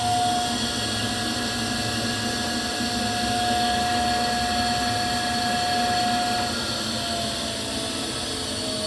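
The workhead spindle of a Cincinnati No. 2 tool and cutter grinder runs at a steady, even whine with a smooth mechanical hum, constant and close with no talking, easing slightly near the end.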